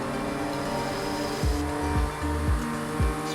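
An Audi RS6 driven in Forza Horizon 5 gives a loud, steady engine drone with a rhythmic run of four or five revving swells or gear shifts in the second half, and no talking.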